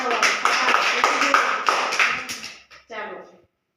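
A class of children claps hands in a quick, even rhythm while their voices chant together loudly; the clapping stops abruptly near the end.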